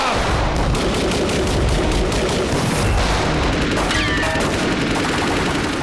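Sustained heavy gunfire, rapid overlapping shots and blasts, loud and unbroken throughout, with a brief high whistle-like tone partway through.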